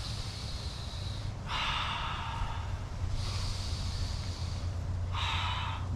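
Slow, deep breaths during a foam rolling exercise, two long airy exhales separated by quieter pauses over a low background hum.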